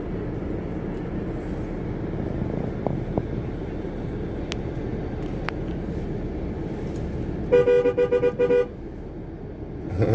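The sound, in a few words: convoy trucks driving past, honking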